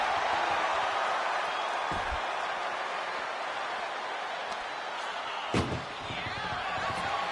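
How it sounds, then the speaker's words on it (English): A single heavy ambulance door slam in a WWE wrestling video game lands sharply late in the clip, with a softer thud earlier, over a steady roar of arena crowd noise. "Trying to force the first door closed."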